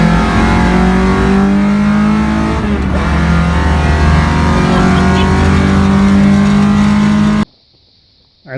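A rally car with a freshly rebuilt engine drives hard on a test run, its loud engine droning and revving steadily for several seconds before cutting off abruptly into near silence.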